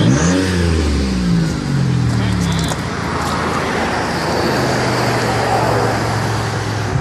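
An Oldsmobile Intrigue car engine revving through its exhaust, a loud rising vroom at the start settling into a steady, throaty idle drone with roadside noise behind it.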